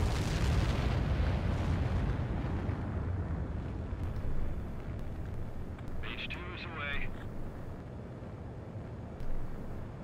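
A fighter jet roars through its takeoff in Ace Combat 7, a loud broad rumble that gradually eases, with brief radio voices cutting in partway through.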